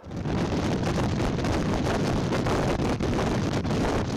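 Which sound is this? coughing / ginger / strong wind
strong wind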